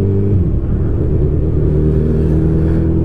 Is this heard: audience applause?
no